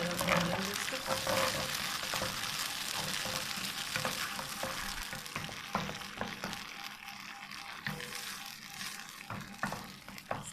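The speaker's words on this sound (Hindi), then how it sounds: "अच्छी तरह भून लेंगे इसको।" Chicken jalfrezi fries in a pan with ginger and garlic, giving a continuous sizzle broken by repeated scraping stir strokes and small clatters. The cooking sits close and at moderate volume, and nobody speaks.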